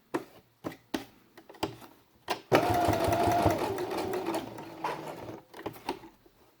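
A sewing machine stitches the felt mast onto a quiet book page, with a few seconds of fast, steady mechanical whirring framed by sharp clicks and taps as the fabric is positioned.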